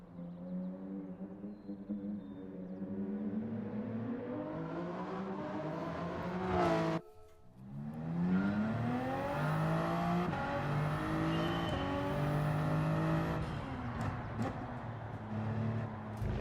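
A Toyota Supra race car engine in the Gran Turismo 7 video game revs up through rising gear sweeps, briefly cuts out mid-run, then climbs again in loud repeated pulls with no talking.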